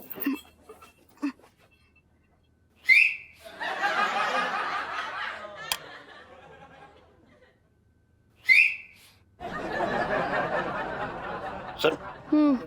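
Two rising whistles, each a sharp upward chirp that leads straight into a loud burst of laughter, set in a Hindi family comedy home scene, with voices talking in between.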